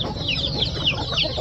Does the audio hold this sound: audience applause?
no